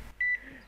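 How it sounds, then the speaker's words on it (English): A single short electronic beep from an EKG heart monitor beside a bed, clean and mid-pitched, in an otherwise quiet room. "EKG on the side of the bed started beeping."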